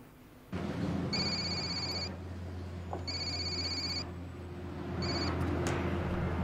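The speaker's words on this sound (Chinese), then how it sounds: "您办公室电话一直在响。" An office desk telephone rings in three separate electronic bursts, loud and close, over a steady low room hum.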